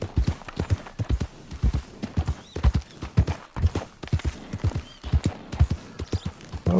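Horse hooves gallop in Red Dead Redemption 2, a loud, fast, rhythmic clip-clop that keeps going steadily throughout, close and clear.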